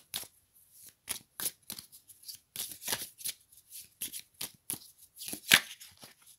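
Oracle cards being shuffled by hand before one is drawn, a series of crisp riffling bursts and flicks close up, with quiet gaps between them and no talking.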